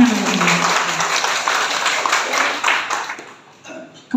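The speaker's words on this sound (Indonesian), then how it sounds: "Tepuk tangan untuk beliau." An assembly audience at a political education gathering for cadres claps in sustained applause that fades out toward the end.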